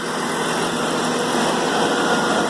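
BMW E39 engine idling with the engine covers removed, a steady continuous mechanical hum and rumble with faint tonal whines, close and even throughout with no voices.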